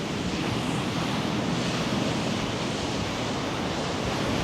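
Rough sea waves break continuously on the Havana shore in stormy weather, a loud steady surf roar with wind noise on the microphone and no voices.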